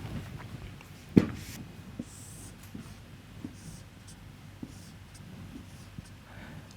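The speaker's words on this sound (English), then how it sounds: "Let me draw it over here." Marker or chalk strokes on a board while a diagram is drawn, with soft intermittent scratches, one sharp tap near the start and faint movement in a quiet room.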